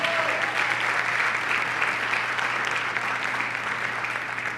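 A church congregation applauds loudly and steadily, a dense continuous wash of clapping that stays even throughout without breaks.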